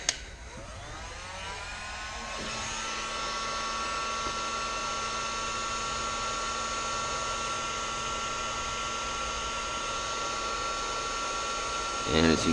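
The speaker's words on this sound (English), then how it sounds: "Use your heat gun." A heat gun blows hot air onto orange heat-shrink tubing around the lead wires of a three-spoke brass chandelier, a steady loud whirring roar starting after a click and running continuously until a brief clatter at the end.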